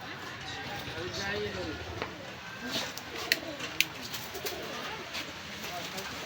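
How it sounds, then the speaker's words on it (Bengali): Soft, repeated cooing of mostly Pakistani-breed pigeons close by at a pigeon market in Khulna, low throaty murmurs overlapping one another, with muffled voices and a couple of sharp clicks. "এখানে কিছু কবুতর আছে, এসব পাকিস্তানি, বেশিরভাগই সব পাকিস্তানি কবুতর"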